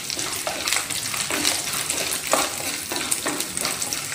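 Dried red chillies fry with coconut in a hot pan for a ridge gourd pepper fry, a steady loud crackling sizzle with stirring scrapes throughout and no voices.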